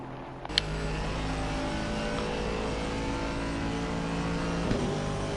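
An Aston Martin GT3 Vantage racing car with a modified 6-litre V12 at Monza in a racing game, its engine holding a steady, droning high-rev note with a brief sharp spike near the start.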